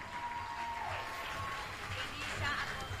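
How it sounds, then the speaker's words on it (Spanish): A crowd at a school graduation claps and applauds continuously, with voices talking over the clapping. "Un fuerte aplauso para Frau Jennifer."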